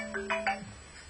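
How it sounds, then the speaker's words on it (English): A telephone ringing indoors: a short electronic ringtone of a few quick tonal beeps, moderately close and clear, then fading into quiet. "There's a telephone ringing"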